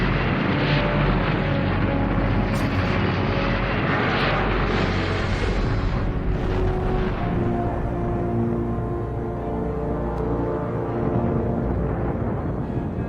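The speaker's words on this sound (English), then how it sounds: "Vanguard rises a few feet, loses power, and explodes" A Vanguard rocket's launch from 1957 archival footage: a loud, continuous rushing roar with rumbling low end, swelling and fading slightly over several seconds, rough and distant in quality, with no speech.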